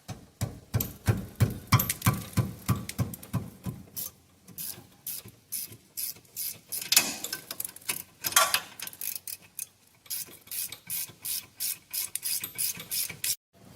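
A ratchet wrench cranks rapidly on the 15 mm caliper bracket bolts of a 2012 Ford Explorer's rear brakes, a close, steady run of sharp clicking strokes with brief pauses between bursts.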